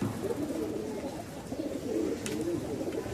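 Pigeons cooing softly in low, rolling calls, a few repeated coos close by with a faint background hum.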